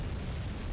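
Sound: cannon blast explosion in the video game Bloodborne

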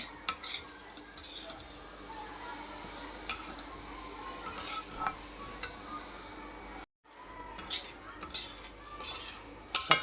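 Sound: stirring semolina roasting in pan for rava laddu

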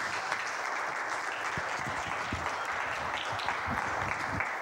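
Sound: applause for flute students

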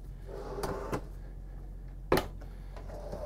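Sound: rollout kitchen drawer in Newmar Essex motorhome

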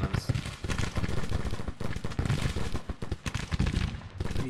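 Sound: Sharps rifles firing in Grand Tactician Civil War video game

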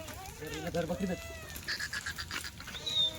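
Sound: Kathiawari goats bleating

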